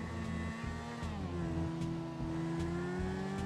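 A car is driven in GTA 5 with a steady, loud engine drone that slowly climbs in pitch as it accelerates. A faint tire noise briefly rises and falls, and no one speaks.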